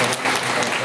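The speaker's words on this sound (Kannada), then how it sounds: "ಆ ಎಲ್ಲ ದಾನಿಗಳಿಗೆ ಒಂದು ಜೋರಾಗಿ ಚಪ್ಪಾಳೆಗಳನ್ನು" Applause for the donors at a farewell ceremony for P. Shankar Rao in Hoovinahadagali, a dense, steady patter of many hands filling the whole short moment.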